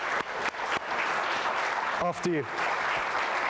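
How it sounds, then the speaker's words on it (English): An audience at a youth forum claps in a sustained round of applause, steady and full, with a brief voice speaking over it partway through. "could we start with a round of applause"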